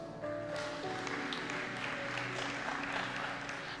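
A church congregation applauding and acclaiming Jesus, a steady wash of clapping and crowd noise held at an even level throughout, with no speech over it.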